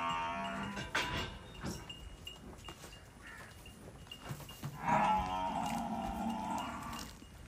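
A prize buffalo lows several times at fairly close range, with a long deep call near the end, amid light farmyard background noise and no talking.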